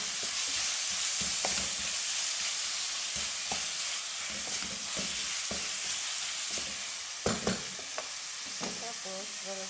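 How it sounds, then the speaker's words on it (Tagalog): Chicken soup with black pepper, salt and magic cube is stirred in a sizzling pot, a constant frying hiss punctuated by irregular spoon knocks and scrapes against the pan, louder clanks near the end. "lalagyan natin ng black pepper, salt, and magic cube. And then, mix and mix and mix."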